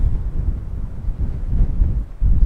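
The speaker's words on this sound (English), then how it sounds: "You can see, you can hear the wind." Wind buffets the microphone outdoors in Tasmania, a loud, continuous low rumbling roar with uneven gusts and no talk.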